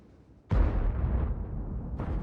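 Tank cannon firing in a video game, from a Leopard PTA at an enemy turret, one heavy booming blast with a long rumbling tail, then a second sharp burst starting near the end, no talking.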